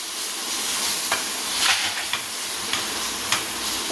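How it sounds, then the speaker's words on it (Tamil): Chili powder and coriander powder sizzle steadily in hot oil in a pan for a home-style dum biryani, a constant close fry hiss broken by a few light spoon stirs and taps. "போட்டு நல்லா வதக்கிக்கிறோம்."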